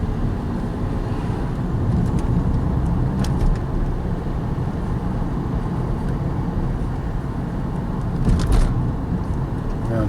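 A 2005 Cadillac CTS with a transmission problem driving steadily, its engine and road noise forming a loud continuous drone, with a couple of brief higher-pitched shifts or whines partway through; no talking.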